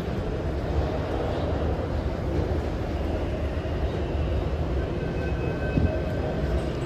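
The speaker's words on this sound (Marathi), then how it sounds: "आली आहे मेट्रो" A metro train arrives at a busy station platform, its low, continuous rumble filling the space evenly at a moderate distance with no voices over it.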